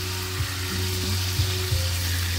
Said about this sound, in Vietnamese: giờ chiên cho nó vàng trước cái đi